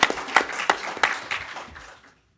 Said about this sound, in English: Let's give him a round of applause before we begin.